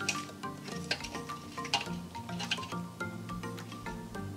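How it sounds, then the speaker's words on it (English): Crispy baked chicken wings are tossed in sauce in a bowl, giving a steady wet squishing and light clinking close by, with no talk. "Now let's give them a light toss, making sure that we do not take out any of the skin"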